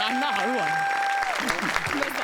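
A studio audience at a Marathi comedy stage show applauds. The clapping starts softly under a voice and grows into steady applause as he pauses.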